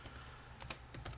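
A file path being typed on a computer keyboard: a quick run of light, close key clicks, fairly quiet, with no voice.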